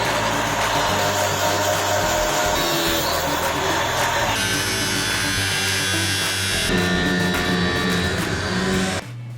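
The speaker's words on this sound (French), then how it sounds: "Une fois que c'est fait, on passe à la découpe à la scie électrique." An electric saw cuts metal tubes for a custom 4x4 roof rack, a loud continuous motor whine with grinding cutting noise that shifts in tone partway through and cuts off sharply near the end, no voices.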